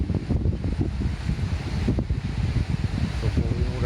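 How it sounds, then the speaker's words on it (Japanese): Cold, strong gusts blowing outdoors ahead of a thunderstorm, buffeting the microphone with loud low rumbling bursts that rise and fall continuously. "すごい冷たい風がふーっとエアコンのような風が吹いてきたんですよ、今。"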